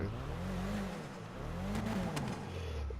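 A car engine revs up and down in smooth swells, steady and close, with no voices: an Annis Elegy Retro Custom in Grand Theft Auto V.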